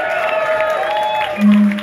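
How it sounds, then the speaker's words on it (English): A crowd at a heavy metal concert applauds and cheers, a steady wash of clapping and crowd noise with tonal sounds ringing over it. "Give them a round of applause, please."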